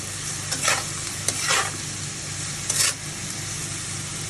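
Bottle gourd stir-fried over high heat hisses steadily in the pan, with three brief bursts of louder scraping and tossing from the spatula spaced a second or so apart, close and clear.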